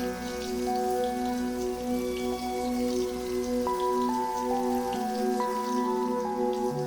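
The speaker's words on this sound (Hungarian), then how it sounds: "és zuhog az eső" Heavy rain pours steadily in a constant dense hiss, loud and unbroken throughout, with a sustained tonal drone running underneath.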